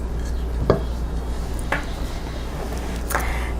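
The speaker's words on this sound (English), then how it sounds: "I'm going to gently stir them in so as not to break them" Gentle stirring and folding of blueberries into thick bran muffin batter in a bowl, a few soft squelching strokes spaced about a second apart, close and quiet over a steady low background.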